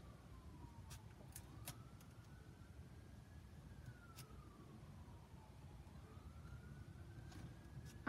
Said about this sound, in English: it sounds like some ambulances are driving by